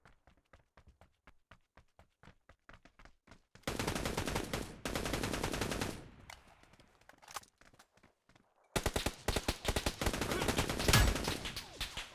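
Rapid gunfire in the mobile game New State Mobile rattles in sharp repeated bursts, interspersed with steady clicking steps, loud and close, with no talking.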